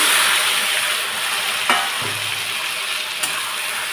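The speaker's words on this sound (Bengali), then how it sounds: "এবার আমি এটা দিয়ে দিচ্ছি ভেন্ডি" Okra tossed into a pan of fried onions for a vegetable curry, frying with a steady near sizzle and a couple of brief clinks of a utensil against the pan.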